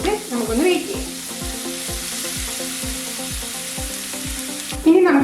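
Chopped parsley and garlic sizzle steadily in hot olive oil for a prawn spaghetti, with a regular tapping of a utensil against the pan running through the loud, continuous frying.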